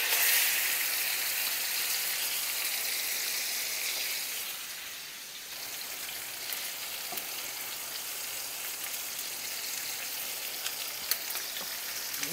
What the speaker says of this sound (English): all we're doing is looking to sear this.